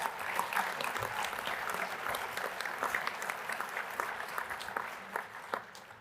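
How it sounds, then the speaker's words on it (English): Convention attendees at the opening general session of the Oxford House World Convention applaud, a continuous crowd clapping at moderate distance that thins slightly toward the end, with sharper individual claps poking through. "Let's give them a round of applause."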